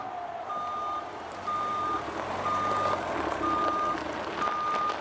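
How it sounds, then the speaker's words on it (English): A big green dump truck gives steady reversing beeps, five evenly spaced tones, with its engine rumbling underneath at a moderate distance outdoors. "It's a big, green dump truck."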